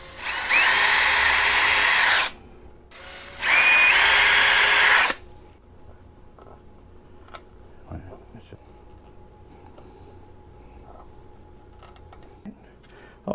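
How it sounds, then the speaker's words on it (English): An electric drill bores mounting holes in a Telecaster guitar body: two loud, high-pitched whirring bursts of about two seconds each, followed by quiet handling clicks and taps. "drill the mounting holes"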